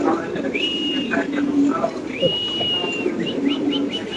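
Indonesian pigeons coo in low, soft repeated phrases close by, while thin whistling birdsong and faint background chatter drift through.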